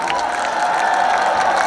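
A festival concert crowd of African music fans in Montreal claps and cheers in a continuous loud wash, with a sustained tone and voices mixed in.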